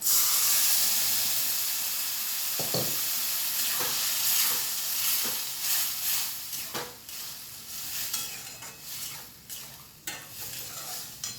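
Vegetables go into besan batter in a hot pan for an aloo-onion dosa filling; loud continuous sizzling and hissing, with a few sharp clinks and stirring scrapes scattered throughout.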